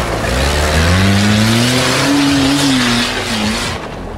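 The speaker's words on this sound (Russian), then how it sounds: "Туарежка дизельный, 3 литра тянет." A Volkswagen Touareg with a 3-litre diesel engine accelerates hard, its loud, steady engine drone rising in pitch and then holding before easing off near the end.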